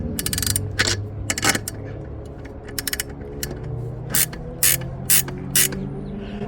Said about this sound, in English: And then I'm tightening the U-bolts.